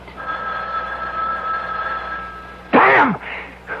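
A telephone rings in a 1970s radio mystery drama, a steady bell-like tone running under the scene before a voice breaks in loudly near the end.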